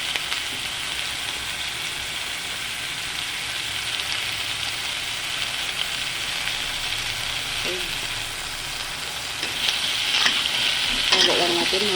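Chicken feet sizzle steadily in a frying pan as they are stirred, with a dense, even hiss throughout and a few scraping stirs near the end.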